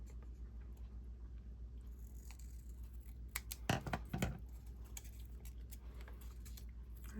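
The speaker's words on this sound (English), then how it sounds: "I want to make sure that I am cutting from the fold to the outside" Scissors snip through folded paper, cutting from the fold outward: a few quiet crisp cuts clustered in the middle, close up over a low steady background hum.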